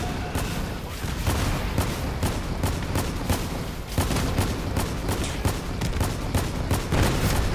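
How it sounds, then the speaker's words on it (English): Burst fire from the Cyclone weapon in Crossout crackles in rapid, dense volleys over a constant engine and battle roar, loud and continuous with only a short lull near the middle. "by burst firing the Cyclone, the accuracy is really high"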